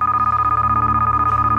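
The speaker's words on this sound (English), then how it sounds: "All right, I'm getting a phone call again." A telephone rings in a video game with a steady, loud electronic ring that pulses in a fast, even rhythm and holds for the whole stretch, with no talking over it.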